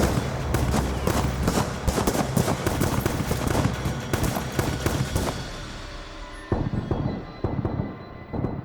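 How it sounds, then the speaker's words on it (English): Heavy sustained gunfire pouring into a house during a staged shootout, a dense rapid fusillade of overlapping shots that thins out near the end, with a brief pause before a few more bursts. "Connolly and his men are focusing a hailstorm of fire on the upstairs bedroom"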